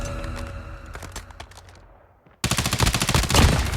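BAL-27 rifle fire in a first-person shooter video game, heard as rapid automatic bursts of loud, punchy shots, fading off and then resuming in a dense, sustained volley.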